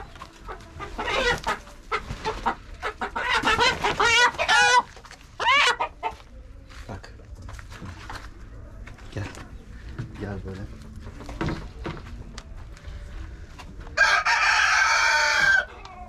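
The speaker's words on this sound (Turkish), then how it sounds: "Bak bu tavuğumuz." A chicken clucks and squawks in loud bursts, with a person talking nearby before a sharp, sustained squawk near the end.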